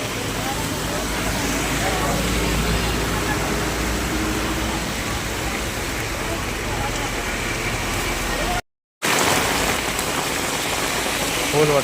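Heavy rain falls outside in a dense, steady hiss that stays close and loud throughout, broken only by a brief dropout near the end, with voices faintly present under the downpour.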